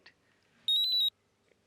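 A phone rings with a call from home: one short electronic ringing burst of rapid pulsed tones, loud and close, standing alone in a quiet room.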